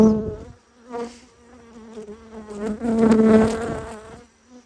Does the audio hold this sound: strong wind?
no